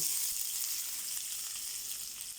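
Chopped onion frying in hot oil for a chicken curry, giving a steady, close hiss of sizzling with no talk over it.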